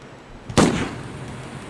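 A single loud gunshot crack from archival film footage of fighting in Palestine, a sharp close report followed by a fading echo and low background noise, with no voices.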